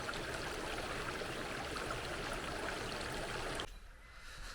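River water flowing in a desert oasis preserve, a loud close rushing wash that stops abruptly near the end, leaving a quieter background.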